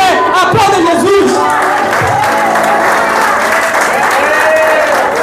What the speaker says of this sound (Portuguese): E se você crê, aplauda Jesus.